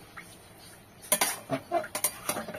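Fish roe being stirred in a kadai, a few sharp metallic scrapes and clinks of a spoon against the wok in quick succession, close and fairly clear over a quiet background.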